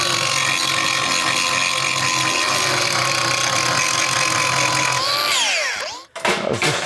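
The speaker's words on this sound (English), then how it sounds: "You just got to grind the head off them as usual." An angle grinder cuts steadily at the head of a seized bolt on a John Deere 6910S tractor, a loud, sustained whine that winds down and stops, followed by a few sharp metallic knocks.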